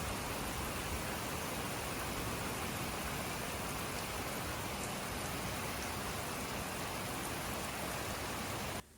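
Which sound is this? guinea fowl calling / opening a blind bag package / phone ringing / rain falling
rain falling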